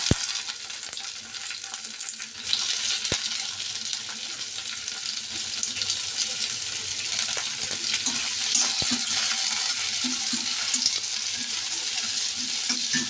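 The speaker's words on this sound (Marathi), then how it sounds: "त्याच्यामध्ये आता आपण शिमला मिरची टाकून देऊया." Capsicum sautéing with onions in a pan, a steady nearby sizzle punctuated by occasional sharp metallic clicks and stirring knocks, continuing evenly for several seconds with nobody speaking.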